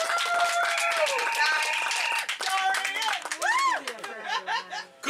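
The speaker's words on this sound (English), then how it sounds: "Applause for Dahrien." An audience claps for a performer at an intimate music gathering. Scattered applause mixes with cheering, whoops, laughter and chatter, then thins out toward the end.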